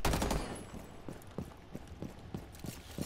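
Video game gunfire crackles in a steady, evenly spaced string of sharp, moderately loud shots, each a short crack, after a brief louder burst at the start.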